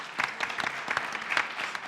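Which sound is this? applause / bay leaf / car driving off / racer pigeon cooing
applause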